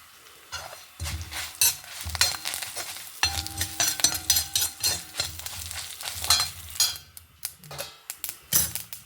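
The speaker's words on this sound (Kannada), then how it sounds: "ನೋಡಿ ಫ್ರೆಂಡ್ಸ್, ಇದೆಲ್ಲ ಕಡಲೆಬೇಳೆ ಎಲ್ಲ ಹುರಿದಾಯ್ತು" Chana dal roasting in a pan while being stirred, with repeated scraping strokes, light sizzling and occasional clinks of a utensil against the pan, close and fairly loud.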